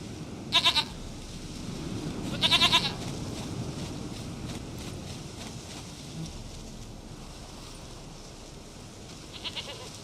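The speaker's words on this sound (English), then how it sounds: "Goat of mine, dearest, sweetest goat." Goat bleats from The Witcher 3 come as short, wavering calls: two clear ones early, then a fainter one near the end, over a steady windy outdoor background with no talking.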